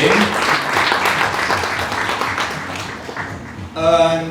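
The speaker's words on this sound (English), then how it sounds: "you can also clap for them because they did very, very good, tremendous work." An audience applauds the winners at a hackathon demo day, dense clapping filling the room with a burst of cheering near the end.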